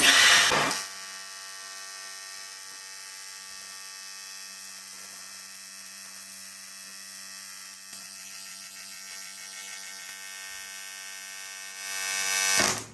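A TIG welding arc on steel plate: a steady, even electric buzz-hum held for about eleven seconds between louder bursts of broadband noise at the start and end, with no voices.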